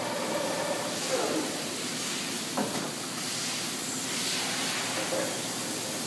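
An 18 by 102 inch Lodge & Shipley engine lathe runs at a changed speed, giving a steady broad mechanical hum and hiss with faint knocks throughout.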